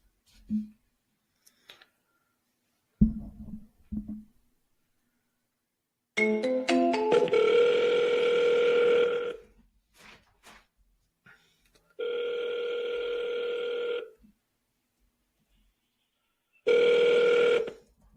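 A few clicks and short beeps, then a telephone rings three times in long electronic bursts separated by silence.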